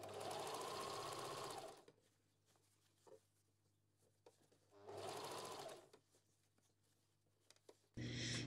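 Sewing machine stitching two layers of fabric around the outside edge of a bolero jacket, running in two steady bursts of about two seconds each with quiet handling between, then starting again at the end.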